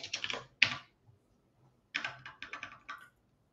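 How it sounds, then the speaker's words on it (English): Typing on a computer keyboard, close and crisp: a quick burst of keystrokes, a pause, then another run of clicks. "Okay, I'll type it again."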